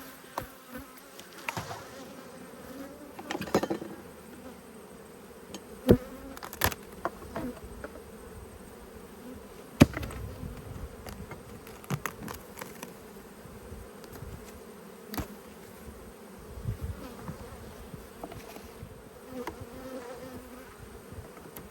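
Honey bees buzzing around an opened yellow hive at nectar flow, a dense, steady drone close by with occasional louder passes of individual bees near the ear.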